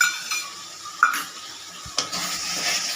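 Spice paste with cumin powder and a splash of water cooks in a pan, a soft steady sizzle broken by a few sharp scrapes and clinks of a spoon against the metal.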